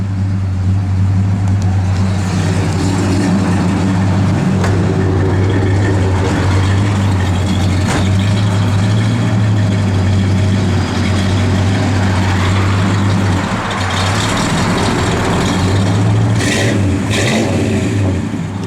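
A 1970 Pontiac GTO V8 rumbles loud and close at a deep, steady idle, with a few throttle blips swelling the exhaust note. No talking is heard.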